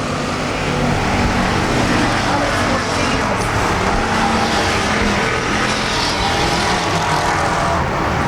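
Ford Bomber race cars circle a greasy Arizona Speedway oval in a heat race, a dense continuous roar of several engines blending with crowd and track ambience, steady and loud throughout with no clear individual passes.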